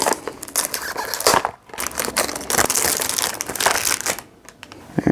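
Cardboard packaging of a CK One Summer 2020 fragrance box crinkles and crumples almost continuously up close as it is torn open, with only brief dips in the rustling.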